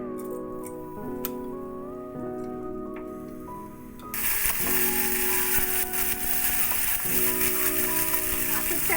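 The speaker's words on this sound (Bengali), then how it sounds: "আতপ চালটা ঘিয়ে ভেজে নিচ্ছি।" Gobindobhog rice frying in ghee in a wok, a close, steady sizzle with light stirring scrapes that swells louder partway through as the grains hit the hot fat.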